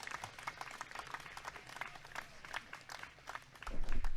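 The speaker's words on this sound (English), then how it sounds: "let me give him an applause here" Light, scattered clapping from a small group on a livestream call, uneven and fairly faint, with a louder rumbling thump near the end.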